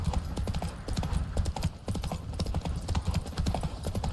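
Roach, Geralt's horse in The Witcher 3: Wild Hunt, walks along with close, steady, rhythmic hoof clip-clops on hard ground, alone for a few seconds.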